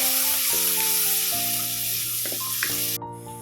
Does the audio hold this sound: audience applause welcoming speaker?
no